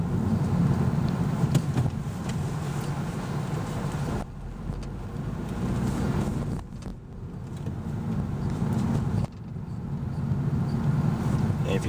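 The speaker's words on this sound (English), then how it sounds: "Now, smooth acceleration, shifts clean with all the gears." A 2007 Honda Civic accelerates from inside the cabin, its engine a steady low drone that drops away briefly at each gear shift before building again, with wind and road rumble underneath.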